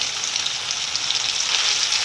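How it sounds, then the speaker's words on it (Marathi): Chili-garlic paste sizzles in hot tempering oil for a savory kulith shengole dish, a steady close crackling hiss running throughout with no voices. "त्या तेलामध्ये छान परतवून घ्यायची मस्त परतवून घ्यायची"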